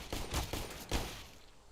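Pistol shots ring out during a Counter-Strike pistol round in a Major final match, three or four quick cracks close together, fairly loud, then fading.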